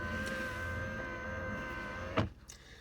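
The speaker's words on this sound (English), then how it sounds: "If needed, you can take your shifter, push the button and fold it down." The shifter of a 2024 Ford F-150 XLT hums with a steady electric motor whine as it folds down at a button press, ending in a soft mechanical clunk and a brief rustle.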